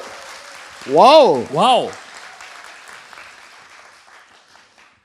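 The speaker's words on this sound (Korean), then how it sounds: "여러분 큰 박수로 맞아주십시오" Studio audience at a Korean talk show cheers and whoops to welcome a guest, two loud rising shouts near the start over a brief burst of clapping, then fading crowd noise.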